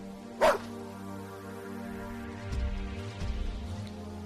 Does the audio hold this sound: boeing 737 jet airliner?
no